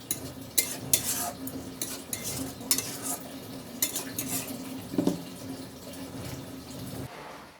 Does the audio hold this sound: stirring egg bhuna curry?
yes